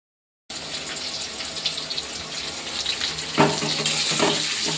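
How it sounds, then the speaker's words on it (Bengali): Potato pieces frying in oil with salt and turmeric give a steady, close sizzle throughout, with a louder clatter of stirring around the middle and no talking. "নুন আর হলুদ দিয়ে আলুটা ভেজে নিচ্ছি"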